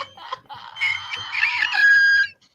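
Someone imitates a bird with a warbling, squeaky vocal call that rises into a sustained, loud whistle-like note, heard close and alone.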